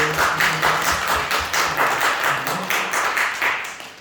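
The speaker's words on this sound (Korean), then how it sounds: "우리 다시 한번 박수로 위로하며 격려하면서 우리 인사를 드리고" Congregation in a church during a Sunday worship service clapping together, a steady rhythmic patter of many hands filling the room at even loudness throughout.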